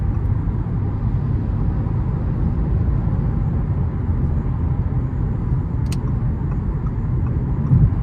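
A continuous low engine rumble with road noise from inside a car, steady and loud throughout, without a clear rise in pitch.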